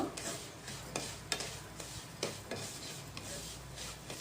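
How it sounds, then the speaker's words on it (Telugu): Grated coconut frying in ghee for a poha and jaggery sweet, a soft continuous sizzle broken by light scraping stirs and occasional ticks of the spoon against the pan. "కొద్దిగా ఫ్రై చేసుకోవాలండి నేతిలో కొబ్బరిలో ఉన్న ఏమన్నా తేమ గట్ట ఉంటే అదంతా పోతుంది"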